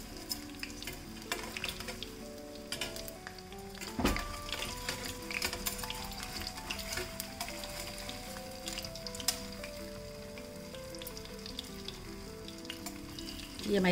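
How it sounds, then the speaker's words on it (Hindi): Whole-wheat and jaggery jalebi fry in hot oil with a steady, fine bubbling sizzle, and a sharp clink comes as they are turned. A tonal hum sits underneath the close, continuous frying. "इसको पहले टर्न कर देंगे, इसे दोनों तरफ अच्छी तरह से फ्राई हो जाए।"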